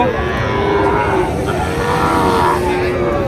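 Sahiwal bulls and other cattle moo at a livestock market in Panchbibi amid a busy, constant background of crowd noise and distant engines, with the lowing steady and moderately loud.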